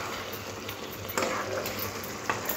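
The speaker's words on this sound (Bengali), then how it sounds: "আর একটু খুন্তি দিয়ে ঘাঁটা ঘাঁটা করে নেব" A spatula stirs cooked bottle gourd with prawns in a pan, soft scraping strokes and a few sharper taps over a low steady sizzle.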